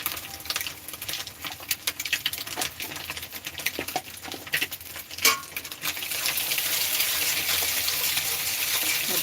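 Red chili powder and turmeric masala fry in a pan for tarka dal, a steady crackling sizzle dotted with sharp taps and clinks of stirring that grows denser and louder toward the end.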